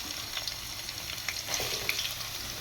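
Onions frying in hot oil for a fish curry, a soft, even sizzle with scattered crisp pops and crackles and a slight rise midway.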